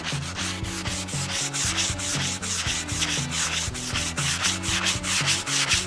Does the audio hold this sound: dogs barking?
no